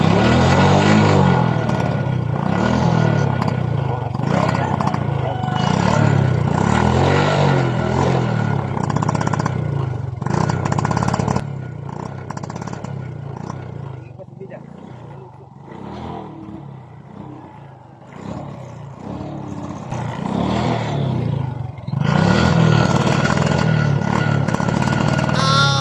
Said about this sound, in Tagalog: Paandarin na natin para marinig natin ang sitwasyon ng kanyang motor.